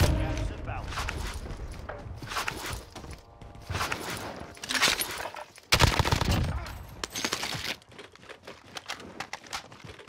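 Bursts of gunfire in Call of Duty Modern Warfare Warzone, irregular sharp volleys of varying loudness spread across the stretch, with people talking over the shooting.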